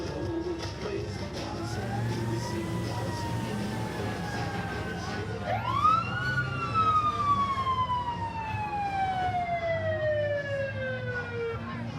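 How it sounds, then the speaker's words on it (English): Fire engine siren from Longtown Fire Department Engine Number 2 in a Christmas parade, a wailing tone that rises sharply then slowly falls, loud over outdoor crowd noise. "From the Longtown Fire Department, the Longtown Engine Number 2"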